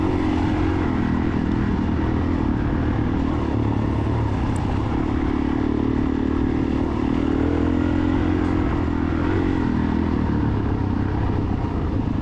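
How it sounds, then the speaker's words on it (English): A 2003 Suzuki DRZ400E dirt bike engine running hard during a motocross cross-country race at Cub Mountain, a continuous close, loud drone with shifting pitch as the rider throttles through open, flowy terrain, no talk. "I'm on a 2003 Suzuki DRZ 400E"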